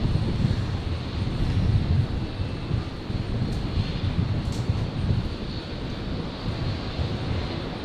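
A Virgin Australia airliner takes off from runway 01 right at Brisbane Airport with a steady, loud, broadband engine roar and rumble that holds for the whole stretch, buffeted slightly by wind, with no talk.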